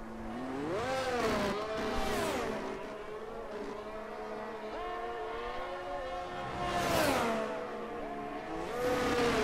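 Ferrari Monza edition 2022 race car engine in a racing video game, revving up and down through gear changes with a continuous rising and falling whine, moderately loud.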